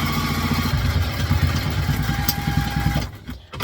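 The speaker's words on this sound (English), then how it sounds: "I always go bottom to top and sew a pocket" A sewing machine stitches a pocket onto a vintage-style doctor's handbag, its needle producing a rapid, even mechanical chatter up close that runs steadily, then stops near the end.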